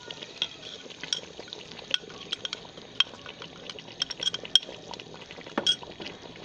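A spoon stirring beef with a dry spice masala of salt, red chilli, nutmeg, mace and dried coriander in a pot for nihari, giving scattered metallic clinks and scraping over a soft sizzle, close and steady.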